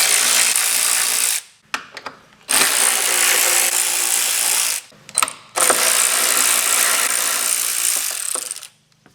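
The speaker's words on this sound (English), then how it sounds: "5mm long driver here. I'm going to remove the right side hydraulic ram." A 5mm long driver loosens the right-side hydraulic ram on a Porsche 996 Turbo, giving three long bursts of loud, close ratcheting and whirring with brief clicks between them and no talk.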